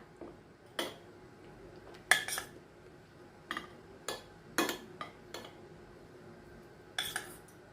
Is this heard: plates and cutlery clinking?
yes